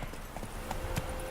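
Horse hooves clip-clop at a steady riding gait in the video game The Witcher 3, a quick run of muffled thuds under a constant wash of background noise.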